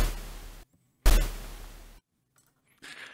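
Synthesized explosion effect built in Phase Plant from a sine wave and noise, two loud bursts with sharp attacks that decay over about half a second to a second, followed by a short fainter noisy tail, no talking.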